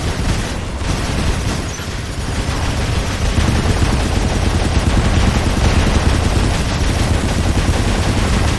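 Robot battle gunfire in the video game War Robots: a loud, dense, continuous barrage of rapid automatic shots and booming impacts that runs without pause across the whole stretch.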